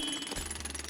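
A jackhammer in the toxic waste cleaning game Sludgineers rattles in rapid, even pulses at moderate loudness, with a low thump as it starts biting in, without any talking.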